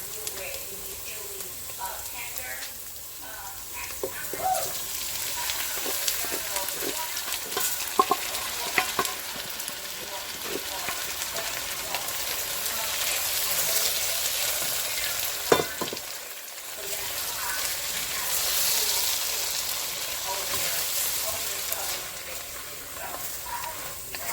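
Pinto beans go into a cooking pot with tomatoes that have cooked down, giving a steady low sizzle and scraping stirring strokes throughout, with no talk.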